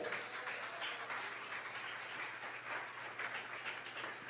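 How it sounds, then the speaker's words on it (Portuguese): Faint, even applause from a church congregation during a Nazarene sermon, many hands clapping in a steady wash with a low hum underneath. "Você pode aplaudir ao Senhor?"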